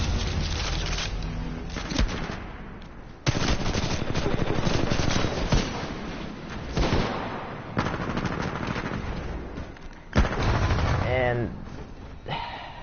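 Bursts of R-201 assault rifle fire in Titanfall 2, loud rapid automatic volleys broken by short pauses, with a voice talking between and over the shooting.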